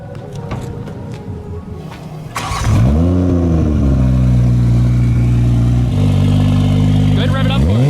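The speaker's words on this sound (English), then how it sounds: "let's go ahead and fire this thing up" A 950-horsepower Toyota A90 Supra engine cranks and fires up after a brief exchange of voices, then settles into a loud, steady, rumbling idle close by.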